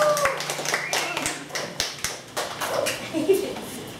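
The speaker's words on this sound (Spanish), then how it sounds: "Aplauso para ella." Guests applaud at a 50th birthday celebration, a burst of scattered hand claps with irregular rhythm fairly close by, mixed with crowd voices and chatter in the room.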